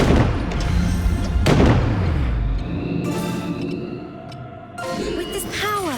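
Soldiers fire gunshot volleys in the fantasy strategy video game The DioField Chronicle, loud booming reports over a busy battle score, with a strong blast near the middle and more shots toward the end.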